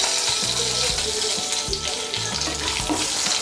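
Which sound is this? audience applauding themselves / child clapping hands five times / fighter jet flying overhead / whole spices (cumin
whole spices (cumin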